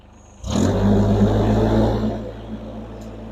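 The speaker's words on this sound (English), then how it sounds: "We'll raise our RPM all the way up." A Komplet K-TC 460 engine revs sharply up to full RPM after a quiet start, then holds a steady, loud drone with a strong low hum that eases slightly toward the end.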